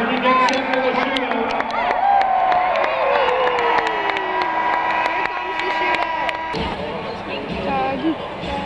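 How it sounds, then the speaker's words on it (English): A hockey arena crowd applauds and cheers the legends before a shootout at the 2016 Legends Classic, a broad, steady roar with whistles and sustained tones over it, loud throughout and easing slightly near the end. "How about a big round of applause for these great stars as we get set for the shootout?"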